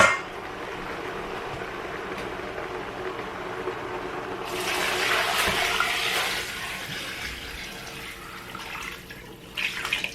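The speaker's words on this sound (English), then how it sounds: "So I'm covering everything with water." Water pours into a stock pot over roasted bones, first a low steady rushing, then a brighter, louder splashing stream for a few seconds before it tapers off and a final brief splash.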